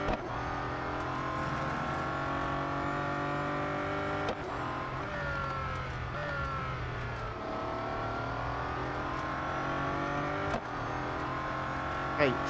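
Race car engines in the Real Racing 3 video game whine and rev steadily with shifting pitch and brief gear-change breaks, with faint talk in the background.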